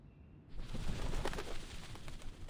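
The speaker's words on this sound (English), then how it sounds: "The doves of the Whitestone House are here." Doves at the Whitestone House cooing and fluttering in the game Reverse: 1999, a soft bird murmur with flapping starting after a short quiet lead-in and continuing steadily, fairly close.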